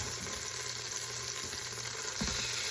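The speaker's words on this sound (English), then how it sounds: "Our oil is starting to get sizzly, and now we're going to put our short ribs in." Short ribs sear in hot, sizzling oil for beer-braised short ribs, a continuous close crackle and hiss with a brief louder spatter near the end.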